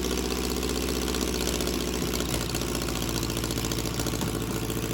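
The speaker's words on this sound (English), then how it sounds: "Next up is the video of the engine running on the test stand." An Excelsior Henderson motorcycle engine runs on a test stand with a Marvel Schebler carburetor, a close, loud, steady mechanical chug of rapid, even firing pulses and a faint knocking rhythm, continuous throughout with no talking.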